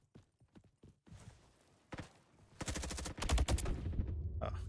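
Gunfire in a Roblox first-person shooter game starts as sparse, scattered single shots. It then builds into loud, dense rapid bursts of automatic fire, close and alone, with no talk.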